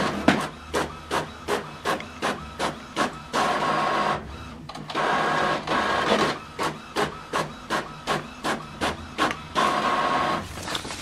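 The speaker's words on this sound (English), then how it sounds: "Now this document is print, is going to print from this printer." An Epson WF-M4119DW printer feeds and prints a document, giving a regular series of sharp mechanical clacks and whirs in a steady rhythm, close and clear, with a brief pause of motor hum midway.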